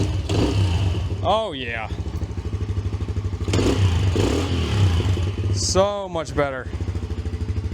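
A Polaris Sportsman 90 ATV engine idles and revs in gear after repair, a close, buzzing small-engine drone that rises in quick revving sweeps, with someone speaking briefly between revs.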